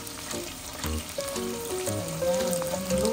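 Chopped onion and ginger sizzle and crackle steadily in hot oil in a pan, a continuous close frying hiss with popping, cooked for a tilapia escabeche.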